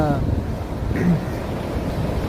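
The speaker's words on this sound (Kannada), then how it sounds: "ಮಳೆ ಗಾಳಿ ಎಲ್ಲ ಸೇರಿ ನೋಡಿ ಆಗಿದೆ ಸಮುದ್ರ ಎಷ್ಟು ಜೋರು" Rough surf churns loudly at Someshwar Beach, Ullal, in the rainy season, with rain and strong wind buffeting the microphone, a continuous roaring wash of water and gusts.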